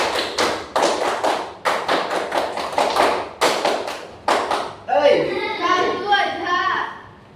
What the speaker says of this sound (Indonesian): Tepuk pramuka tambah 1 kali.